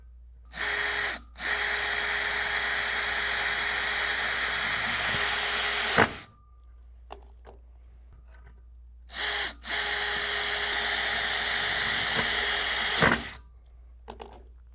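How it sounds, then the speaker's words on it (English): A power drill driving self-drilling screws into an aluminum railing bracket whines loudly in two long bursts, each several seconds, with brief stops and quieter pauses between them. "attach it to the railing using 2 self-drilling screws"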